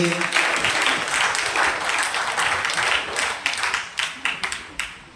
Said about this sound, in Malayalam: കൈയടിച്ച് നന്ദി പറഞ്ഞേ.